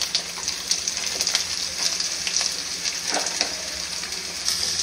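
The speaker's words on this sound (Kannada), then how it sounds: "ಈರುಳ್ಳಿ ಕಂದು ಬಣ್ಣ ಬರಬೇಕು ಅಷ್ಟರವರೆಗೂ ನಾವು ಸ್ವಲ್ಪ ಫ್ರೈ ಮಾಡ್ಕೊಬೇಕು" Onions fry in a pan with green chillies and curry leaves for tomato gojju, a loud continuous sizzle with crackling pops and occasional stirring, close up and without talk.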